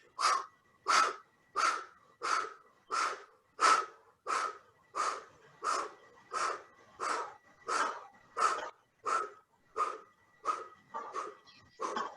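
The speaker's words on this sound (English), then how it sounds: "Deep exhales, deep inhales." Deep yogic breathing during a Kundalini yoga set, with about fifteen forceful, evenly paced breaths in a steady rhythm, close and clear with no talking.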